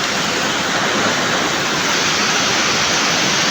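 Rushing water at Bula in Baao, Camarines Sur, gives a loud, unbroken roar that stays close and constant throughout, with no voices over it.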